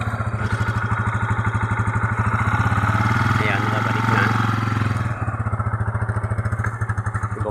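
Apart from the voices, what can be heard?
motorcycle engine running on choke with carburetor trouble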